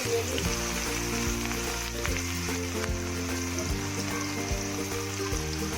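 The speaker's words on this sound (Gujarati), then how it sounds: "હવે આપણે અંદર ડુંગળી નાખીશું" Chopped onions sizzle in two spoonfuls of hot oil for Gujarati sev usal, a steady bright frying hiss over a low humming drone with faint stirring clinks, close and continuous with no talk.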